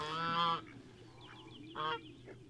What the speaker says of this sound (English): Peaches, Redneck, Bootsy, Pears, Fifi, Tip, and a random duck